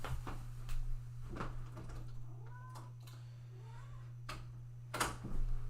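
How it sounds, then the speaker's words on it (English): A house cat meows softly a few times, faint and somewhat distant, over a steady electrical hum with occasional clicks and taps. "you guys are probably going to hear the kitty cat right now"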